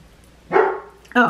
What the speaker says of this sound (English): y'all know this dog never lets me do my thing in peace